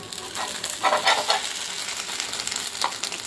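Pesarattu upma fries in a pan with a steady sizzle, broken by short scraping bursts as it is stirred.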